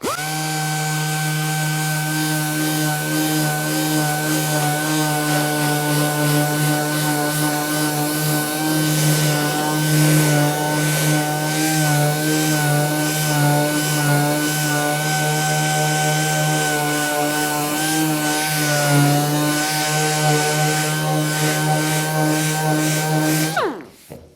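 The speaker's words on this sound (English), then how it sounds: "I try not to dig in with the DA sander" A dual-action (DA) sander fitted with 80-grit paper works over a car body panel, giving a loud, continuous buzzing whine that holds steady for over twenty seconds before cutting off abruptly, with no talking.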